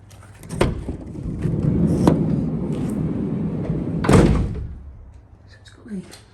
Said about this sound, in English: Side loading door on the side.